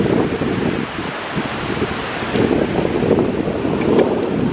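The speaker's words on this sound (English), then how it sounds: "The waves look pretty big" Wind buffets the microphone at a Hawaii beach, with the rushing wash of big ocean waves swelling louder toward the end, no voices heard.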